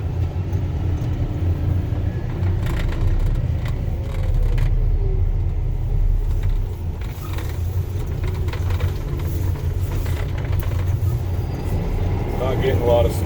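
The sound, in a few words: snow removal plow vehicle driving around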